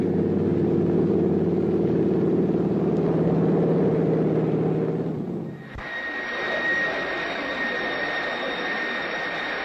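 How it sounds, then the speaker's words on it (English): An airplane engine at a Washington flying school drones steadily, then shifts to a higher whining tone with a strong sustained whistle, loud and close. "This young man, Bayena Gulilat, is mastering the rudiments of flight at a Washington flying school"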